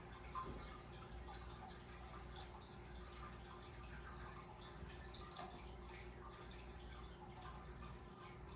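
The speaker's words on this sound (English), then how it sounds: "I'm gonna let this siphon water out" Pond water drains through a siphon with a faint, steady trickle and dripping that continues evenly, quiet and unbroken, with no voices.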